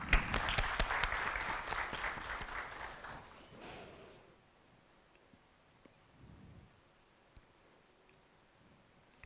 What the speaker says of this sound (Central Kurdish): چەپڵە؟